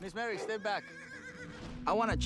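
A horse whinnies with a wavering, high-pitched call, then a second shorter neigh follows, fairly close and loud.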